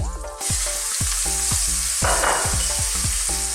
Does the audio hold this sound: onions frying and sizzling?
yes